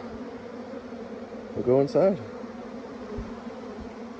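Honeybees from a gentle colony buzz steadily in a close, low drone while being flushed out of a box during a removal, with a voice briefly speaking over it.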